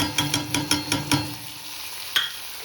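Capsicum with gram flour and powdered masalas frying in a pan, with a rapid run of stirring scrapes over a soft sizzle, then one last scrape after a pause, close up.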